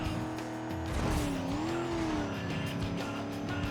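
Race car in a racing video game roars continuously at high revs, with a rising and falling engine pitch and tire squeal mixed in, dense and steady throughout.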